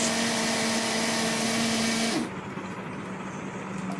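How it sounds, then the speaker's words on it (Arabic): A kitchen blender whirring loudly as it mixes sugar for fresh lemon juice, a steady motor drone that cuts off about halfway through, leaving quieter room noise. "وهنزل بالسكر واضرب ده كله في الخلاط"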